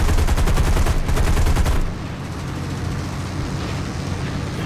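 Aircraft machine guns in the video game War Thunder fire a loud, rapid burst that stops abruptly, leaving a steady engine drone.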